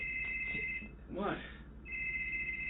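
A phone rings with a steady electronic ringtone, interrupted while a voice speaks, then resumes, in an indoor room during a horror video reaction.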